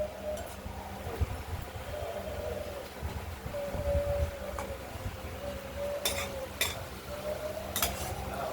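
Poppy seed paste being stirred into halved, lightly fried okra in a pan: a steady scraping, shuffling stir with occasional metallic clinks of a utensil against the pan, kept up throughout at moderate volume.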